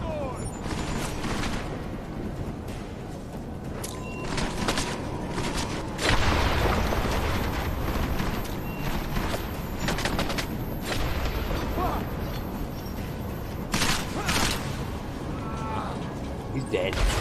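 Video game firefight with a flash grenade explosion and bursts of gunfire, dense repeated shots and booms throughout, loudest around the middle, with voices talking over the action.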